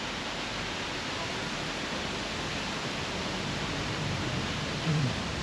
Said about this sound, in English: Let's see where that waterfall comes down.